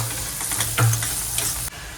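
Finely chopped onion sautéing in a pan with cumin, a close steady sizzle with a brief scrape of stirring in the middle and a low hum beneath, cutting slightly quieter near the end, no talk.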